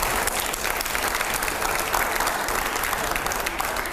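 Studio audience applauding during a televised panel debate, dense steady clapping that fills the whole stretch at a loud, even level, with no speech over it.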